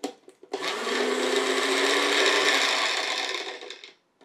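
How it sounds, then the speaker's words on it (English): A Magic Bullet blender, just repaired after a leak, starts up and runs for about three and a half seconds with a loud, steady, high-pitched motor whine and blade buzz, then stops abruptly. "let's go ahead and put it on and try it out."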